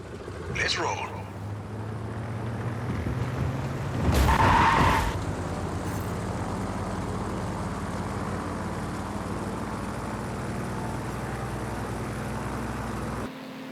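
Plane taking off in the video game Just Cause 4, a steady engine roar running the whole time with a loud rising burst midway, mixed with game sounds and some talk.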